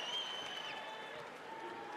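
Crowd applause at a women's college basketball game between Louisville and Notre Dame, a distant, steady roar of clapping and cheering filling the arena, fairly faint and continuous.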